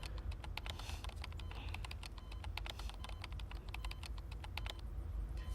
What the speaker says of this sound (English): The furious typing sounds almost like a sudden downpour.